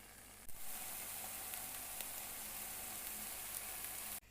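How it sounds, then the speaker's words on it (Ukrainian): Eggplant slices frying in hot oil give a steady, soft sizzle with faint crackles, constant throughout with no voices. "Смажимо кружальця баклажанів на олії з двох сторін."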